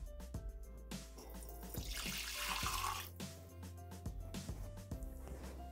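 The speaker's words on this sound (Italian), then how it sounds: "Iniziamo la ricetta mettendo all'interno del boccale l'acqua" Water from a tap or jug pours into a Thermomix TM6 mixing bowl at the start of a potato, green bean, pea and tuna salad recipe, a steady splashing stream with small clinks, close and fairly quiet.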